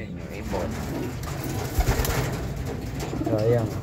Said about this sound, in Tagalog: ayan yung ibon.